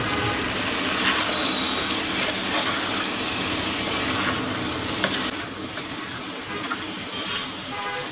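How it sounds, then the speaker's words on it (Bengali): Fried meat added to a pot for a one-pot rice meal and stirred, giving a loud, steady sizzle with scraping stirring that eases slightly toward the end. "এবার আমি ভেজে রাখা মাংসগুলো এর সাথে অ্যাড করে নিচ্ছি"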